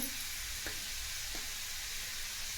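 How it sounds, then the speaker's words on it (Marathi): Spices stirred into a radish curry in a hot pan, a soft steady sizzle with two faint scraping taps of the spoon, quiet and close. "हे सर्व मसाले मिक्स करून घ्यायचे आहेत"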